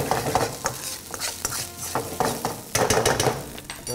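A spoon stirs rice around a heated pan, making close scraping and clinking strokes over a soft sizzle, in uneven bursts with no voices.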